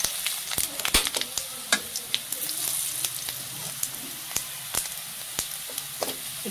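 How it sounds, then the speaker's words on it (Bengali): Onions and cumin seeds frying in oil in a pan for a fish curry, giving a steady close sizzle with scattered sharp pops and crackles throughout, with no talking. "তরকারির জন্য আমি পেঁয়াজের ভাজনা তুলে নেব, তার জন্য পেঁয়াজ দিয়ে দিয়েছি। এবার দেবো জিরা"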